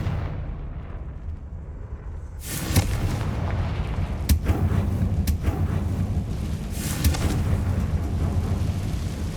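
A Confringo fire spell goes off in Hogwarts Legacy, a booming blast that swells into a rumbling roar with a few sharp cracks and bursts over steady background noise.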